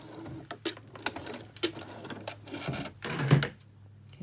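A sewing machine stitches along a folded sleeve edge in short, uneven bursts of rapid mechanical clatter, close and fairly quiet, with a steady motor hum beneath and small pauses between runs.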